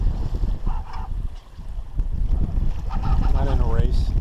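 A sailboat under way on a solo sail on Lake Huron, with rushing wind and water noise and a creaking, honk-like squeal from the rigging; someone speaks briefly over it.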